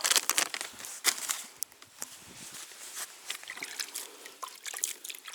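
Dry mix poured and crumbled into garlic-scented crucian carp groundbait outdoors, a steady granular rustle and crunching with soft trickling bursts, close and fairly quiet, no voices.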